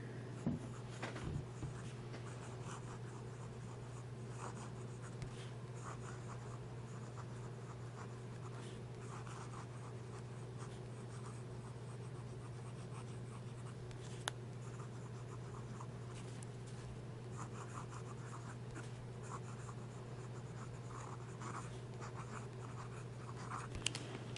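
A fountain pen fitted with a 1.5 stub nib writes steadily across paper, giving a continuous close scratching with small irregular strokes over a constant low hum, and no voices.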